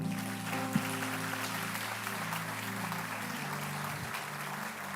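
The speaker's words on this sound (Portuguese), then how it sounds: "Se você crê, aplauda o Senhor." A church congregation applauds during a sermon, a soft, distant spread of clapping sitting under a sustained organ or keyboard chord that shifts pitch partway through, with one sharper knock near the start.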